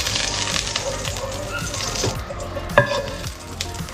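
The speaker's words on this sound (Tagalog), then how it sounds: "Nag-init na tayo dyan ng ating kasirola. Maglagay na tayo ng mantika." Oil heating in a casserole pan for frying anchovies makes a steady, hissing sizzle with a soft crackle and one brief clink, close and fairly loud.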